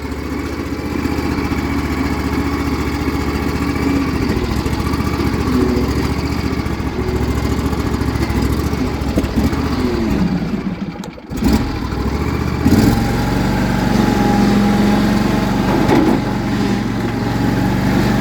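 John Deere L110 lawn tractor engine running nearby at a steady, loud drone, dipping briefly as the load shifts, then settling back into an even rumble.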